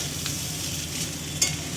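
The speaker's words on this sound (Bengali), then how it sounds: "এটা বেশি ভাজা হবে না, জাস্ট একটু মিশিয়ে একটু।" Rice and vegetables being stirred in a frying pan, a steady close sizzle with scraping spoon strokes and one sharper clack near the end, no talking.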